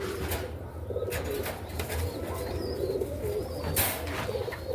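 Close, soft cooing from domestic Egyptian kishk pigeons, several low throaty coos repeating over a busy background hum, with a brief flutter of wings and no talk.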